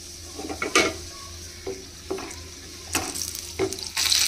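Dried red chillies, cumin and mustard seeds frying in oil for a tomato chutney make a low sizzle, punctuated by several sharp clinks and scrapes of a spoon against the pan.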